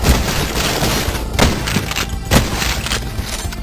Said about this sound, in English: The lever action rifle, which works as your high damage magnum, is one of the most satisfying weapons in the game.